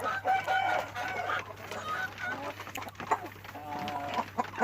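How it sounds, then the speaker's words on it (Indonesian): KUB rooster and hens in a coop at a village-chicken breeding pen, repeated clucking and a rooster crowing nearby, with a voice talking faintly in the background. "Nah, ini pejantannya KUB,"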